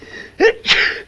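A single sneeze in two quick bursts, a sharp intake then a louder explosive release, close and clear, from someone with a cold in a foggy setting.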